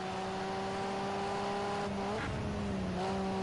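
Touring race cars circling Hockenheim in a racing video game, engines holding a steady loud drone down the main straight, with a brief pitch shift of shifting or braking near the end.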